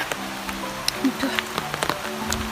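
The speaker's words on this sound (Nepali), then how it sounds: "ल कत्रो पानी पर्यो" Heavy rain pours on an off-road hillside route, a dense patter with scattered sharp drops on nearby surfaces, while a person talks over it.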